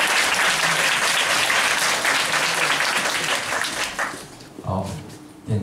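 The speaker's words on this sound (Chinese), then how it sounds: "那我们就再次热烈掌声欢迎这些主讲者" An audience gives a loud round of applause to welcome the speakers at a talk. The dense clapping holds for about four seconds, then thins out as voices come in.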